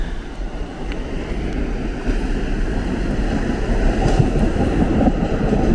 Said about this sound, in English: we have the N train coming into the station